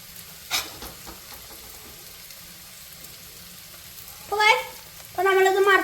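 Cauliflower frying in hot oil for chilli gobi, a quiet background sizzle broken by a short clatter early on and louder bubbling bursts as pieces are stirred near the end.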